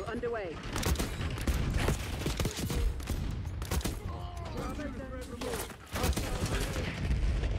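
Rapid bursts of hand cannon gunfire in Call of Duty: Black Ops 6 crackle over a busy, noisy mix of battle sounds, with a voice talking loudly through it.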